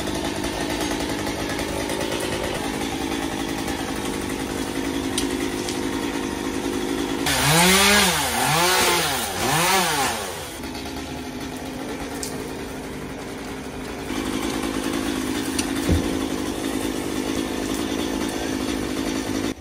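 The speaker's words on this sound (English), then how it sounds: "this man has a chainsaw that is fully on, going full throttle attached to his hip, hitting his leg and also hitting his feet" A chainsaw at full throttle runs in the backyard during tree removal, a steady rough buzz with a few seconds of rising and falling revving in the middle, heard fairly close.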